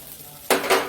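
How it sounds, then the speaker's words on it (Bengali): Panch phoron five-spice seeds hit hot oil in a pan beside fried drumstick pieces, giving a sudden sharp sizzle that crackles on for a moment, close up and alone. "এবার আমি একটু সাইড করে মাঝখানটায় এই পাঁচফোড়নটা দিয়ে দেব"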